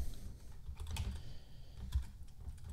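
Steady typing on a computer keyboard while writing an After Effects expression, a run of light, close key clicks with a few louder taps.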